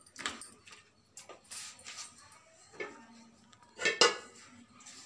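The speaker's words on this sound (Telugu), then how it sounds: "ముందుగా బిర్యానీ తయారు చేసుకోవడానికి ఓ పాత్ర పెట్టుకుందాం." A cooking pot for biryani is set down in a kitchen with a few scattered clinks and clatters of metal cookware, ending in one sharper knock, with no one speaking.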